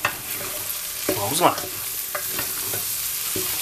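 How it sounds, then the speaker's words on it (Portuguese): Tripe in tomato sauce fries in a pan, with a steady sizzle running throughout while a spoon stirs and scrapes the ingredients in bursts. A person speaks briefly over the sizzling. "Agora nós vamos deixá-lo fritando um pouquinho no centro aqui da nossa panela e vamos misturar aos demais ingredientes."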